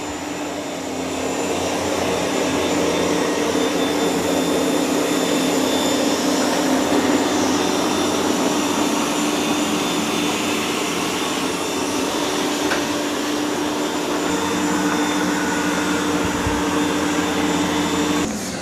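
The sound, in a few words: ECOVACS DEEBOT X2 Omni robot vacuum mopping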